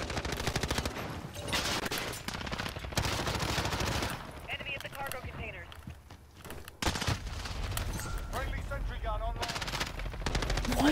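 Dense, sustained automatic gunfire from a Modern Warfare match, loud and close with rapid bursts and brief lulls, mixed with game sound effects and a voice speaking briefly.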